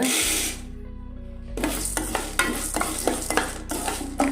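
Chana dal and urad dal fry in oil for a Tamil onion chutney, a brief quiet lull giving way to a loud, dense sizzle with repeated sharp crackles and stirring scrapes close by.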